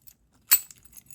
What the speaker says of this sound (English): Let's use the keys.